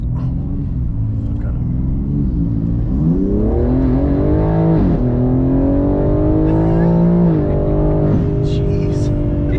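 A 600-horsepower BMW M3 G80 accelerates hard, its engine note climbing in repeated surges through the gears, loud and continuous, with voices briefly audible underneath.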